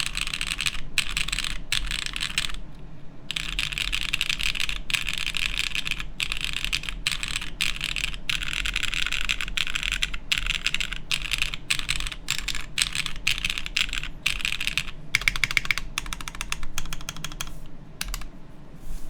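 Custom plateless mechanical keyboard with DCS keycaps being typed on, a brisk irregular run of close, crisp clacks through the alpha row, with short pauses between bursts over a faint low hum.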